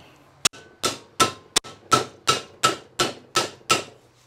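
A mallet pounds a piece of car-body sheet metal clamped against an iron bar, striking about ten sharp, ringing blows in a steady rhythm at close range with no talk.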